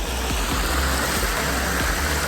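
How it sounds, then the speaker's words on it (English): A small backyard pond, about 7 by 9 feet, with a short stream and a roughly two-foot waterfall drop in a natural wooded setting: steady, close rushing and splashing water, continuous and fairly loud, with no talking. "this pond with a stream and waterfall"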